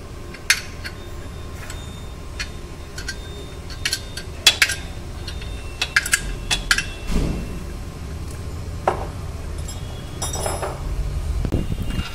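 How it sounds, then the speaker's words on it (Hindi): A wrench clinks and ticks against metal while bolts are tightened on a car gearbox being refitted to fix hard gear shifting; sharp, close, irregular metallic taps with quiet pauses between, and no talking. "देखिए अब राउंडिंग का बोल्ट टाइट कर रहे हैं"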